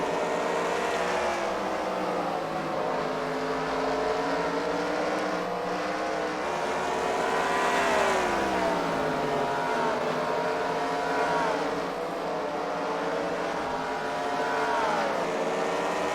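Race cars circle a short track at a CWRL fight night at the Freedom Factory, engines droning steadily with rising and falling pitch as cars pass, continuous and fairly loud throughout.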